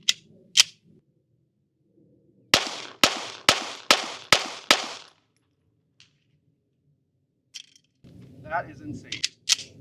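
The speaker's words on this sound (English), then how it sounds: "So as soon as the reticle is back on target, I'll fire a little bit slower than normal" Six sharp pistol shots from a Bul Armory 2024 Tac Pro duty pistol, evenly spaced and loud, preceded by a couple of earlier cracks, with brief speech and a few fainter clicks and handling noises afterward.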